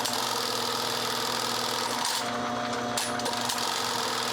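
An industrial sewing machine stitches bar tacks onto a U-zip duffle bag strap, giving a steady, close mechanical drone with a faint whine that runs unbroken the whole time and has no talking over it.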